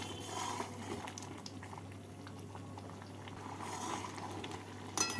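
Masoor lentil dal boiling down in a pot to reduce its water: a steady, quiet bubbling and soft popping simmer that runs continuously, close by, with no talk.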